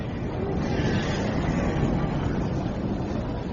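A crowded underground New York city fills the air with a deep, continuous roar of distant ambience, dense and even throughout, with no voices on top.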